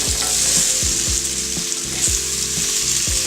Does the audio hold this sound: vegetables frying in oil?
yes